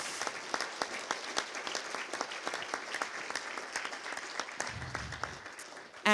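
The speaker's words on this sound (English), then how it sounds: "So let's give them an applause too." Audience at a formal final meeting breaks into applause, a steady patter of many hands clapping at moderate distance throughout, ending in a louder burst.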